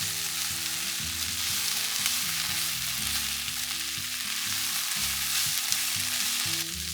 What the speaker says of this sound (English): So we're just going to continue to saute these onions until they're nice and caramelized.